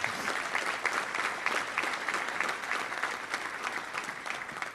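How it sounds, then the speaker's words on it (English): Steady, dense applause from an audience at a Little Rock Touchdown Club luncheon in a hotel venue, sustained at an even level throughout without a break. "Let's give them a round of applause if you could."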